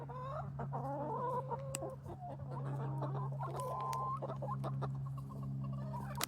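Hens cluck and chatter up close while pecking at mealworm and herb treats, with a steady low hum running underneath.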